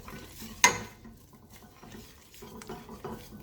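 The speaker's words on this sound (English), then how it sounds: "you want to keep stirring it because you don't want it to stick in the bottom as well" A bechamel of flour, milk and heavy cream stirred in a pan, with one sharp clink of a utensil against the pan, then soft, quiet scraping and stirring strokes.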